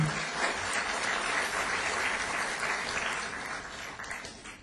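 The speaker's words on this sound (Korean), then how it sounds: "여러분 환영의 박수를 부탁드립니다" Warm, dense welcoming applause fills a hall at a commemorative ceremony and academic conference, many hands clapping steadily and loudly for several seconds before easing slightly at the end.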